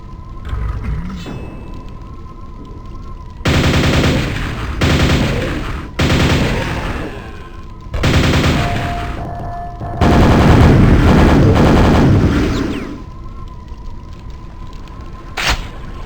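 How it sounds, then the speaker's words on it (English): Chain gun in the Quake VR game fires in several loud, sustained bursts, broken by short pauses, with quieter game ambience in between. "this chain gun is badass, man."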